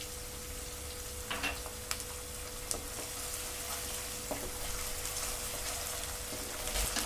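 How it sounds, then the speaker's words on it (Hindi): Onion with ginger garlic paste sautéing in a pan for chana chaat, a steady soft sizzle with faint scraping stir clicks running throughout, no talk. "अब इसमें जिंजर गार्लिक पेस्ट ऐड करेंगे और इसको थोड़ी देर भून लेंगे।"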